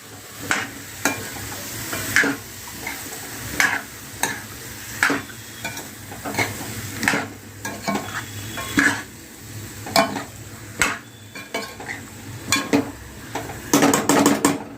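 Bottle gourd curry being stirred in a kadhai, a spoon scraping and knocking the metal in a steady rhythm of sharp strokes over a soft sizzle, close and fairly loud, with a busier burst of clatter at the end.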